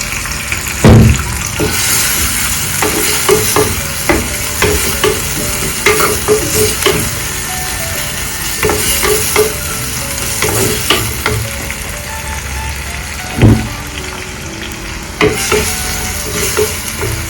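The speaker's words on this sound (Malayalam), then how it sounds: "കടുങ്ങ് ഉടയണ വരെ ഇളക്കി കൊടുക്കാം" Mustard seeds stirred in a hot pan until they splutter, for a Thrissur–Kottayam style sardine chilli curry: steady frying sizzle with repeated scraping stirs and sharp pops, loud and close, with no talk.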